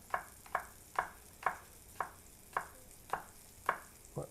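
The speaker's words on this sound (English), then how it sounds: "I want to slice them because it's always nice to get like the texture of a sliced apple" Knife slicing through Honeycrisp apples on a cutting board, eight or nine crisp, evenly spaced cuts each landing with a short crunch, close and clear against quiet room tone with no talking.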